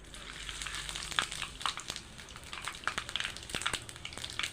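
Whole spices tempering in hot oil for a banana flower curry, a steady close crackling sizzle scattered with sharp pops and spits.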